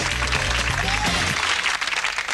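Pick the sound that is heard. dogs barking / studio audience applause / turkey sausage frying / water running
studio audience applause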